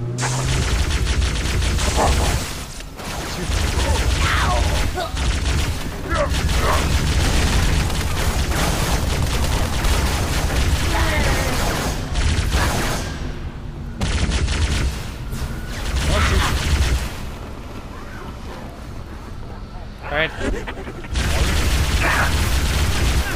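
Heavy Halo 3 combat with booming frag grenade blasts and gunfire, loud and nearly continuous, breaking briefly a few times between dense rumbling explosions.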